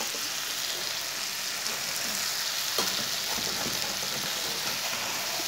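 Okra frying on high flame in a pan, a steady dense sizzle running throughout at close range, with a few faint stirring knocks midway.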